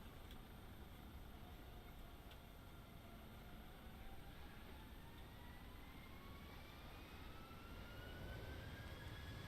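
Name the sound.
nearby aircraft engine starting, flight simulator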